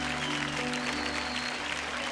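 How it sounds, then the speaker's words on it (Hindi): Studio audience applauding on a Hindi TV show, a steady dense wash of clapping that holds evenly for the whole stretch with no voices over it. "आप इस शो का हिस्सा बने, इनके लिए जोरदार तालियां।"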